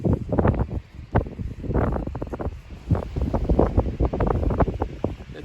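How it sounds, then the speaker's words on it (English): Strong gusts buffet the microphone outdoors on a rainy, windy day, producing loud, uneven low roaring bursts that rise and fall throughout. "the wind is terrible"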